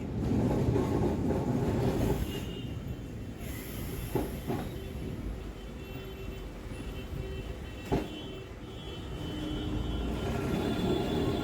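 A Kolkata tram runs along a city road with a steady rolling rumble, broken by a few sharp metallic clanks, and no voices.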